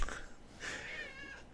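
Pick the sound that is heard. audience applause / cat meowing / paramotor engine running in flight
cat meowing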